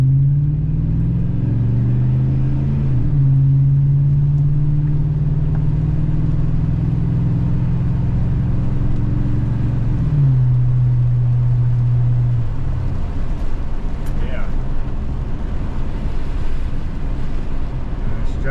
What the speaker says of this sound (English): Just take her down the road here a little ways.